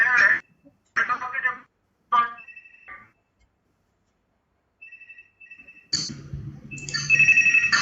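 A phone ringing tone sounds in short repeated bursts during a pause in speech, then a voice and background noise pick up again.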